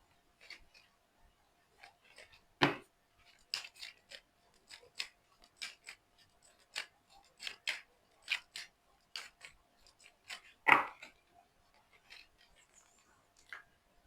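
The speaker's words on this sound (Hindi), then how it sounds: "मैंने कार्ड तो शफल कर लिया, अब कार्ड निकालूंगी।" Tarot cards being shuffled and drawn, giving a string of soft, crisp snaps and slides at an uneven pace, close and quiet, with two sharper card flicks standing out.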